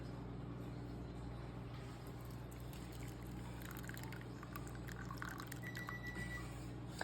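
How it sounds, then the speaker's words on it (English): Butter sauce poured from a cast iron skillet into a bowl, a faint liquid trickle and drip over a steady background hum, no talk. "We're gonna pour it into this bowl."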